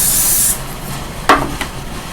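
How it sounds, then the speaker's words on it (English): Hairspray hisses from a can onto a wig in a steady half-second burst, followed by a couple of quieter brushing or rubbing sounds close by. "Now we're just going to once again spray."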